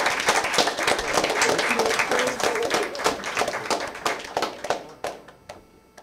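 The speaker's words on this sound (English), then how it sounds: "Please do give all of our teams a big round of applause for their wonderful effort this evening" A quiz-evening audience applauds the competing teams after a junior science quiz round, steady dense clapping that holds for several seconds before thinning out into scattered claps.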